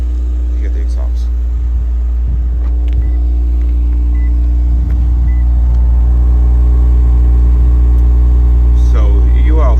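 A GS sits idling after a cold start, its exhaust giving a loud, steady low rumble throughout with small fluctuations and a few faint background sounds.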